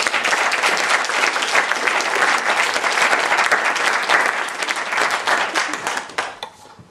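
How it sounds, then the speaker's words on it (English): Audience applause filling a hall, dense, loud clapping sustained for several seconds before tapering off and fading out at the end. "Let's give another round of applause."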